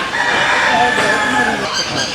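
Loud, close noise from large chickens of about 14 to 15 kilograms fills the clip, with clucking and a drawn-out crow-like call over a busy, noisy fairground background.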